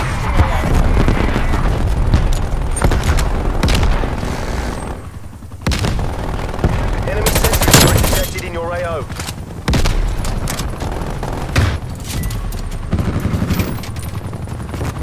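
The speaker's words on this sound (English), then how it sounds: "Sentry turret deployed." Automated sentry turret gunfire in Call of Duty Cold War, loud bursts of rapid shots and booms over a dense battle mix, with speech heard through the clip.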